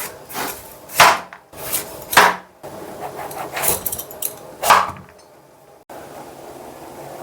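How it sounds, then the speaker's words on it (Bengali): A knife cuts through a fresh papaya on a wooden surface in a village kitchen, giving several sharp, close chops with short pauses between them and no talking. "পেঁপেটা কেটে নেব।"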